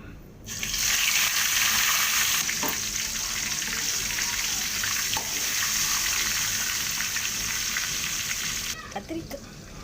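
Masala-coated eggplant (brinjal) hits hot oil for ennai kathirikkai kuzhambu, bursting into a loud, close sizzle that holds steady for several seconds before cutting off abruptly.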